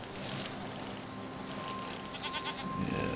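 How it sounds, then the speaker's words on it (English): Goats bleat in the video game Season: A Letter to the Future, fairly faint and distant over steady ambient game sound, with a few wavering calls toward the end. "Past the goats."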